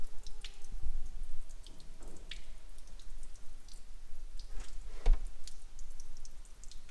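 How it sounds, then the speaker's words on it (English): Coolant drips from a split radiator on a Nissan Skyline R31, an irregular run of small wet patters and splats close by, with a faint engine-like hum early on and no talk. "I'm pretty sure that just split the radiator."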